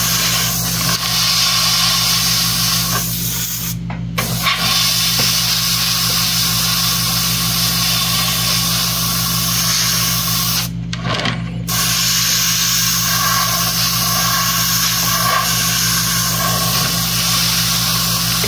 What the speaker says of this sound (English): See him spraying into the corner so I get the shading